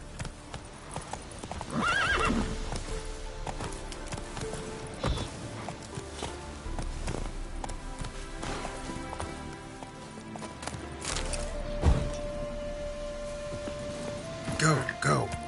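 Roach the horse gallops in The Witcher 3 with rapid clip-clop hoofbeats, whinnies and neighs, as a voice speaks over the steady running rhythm.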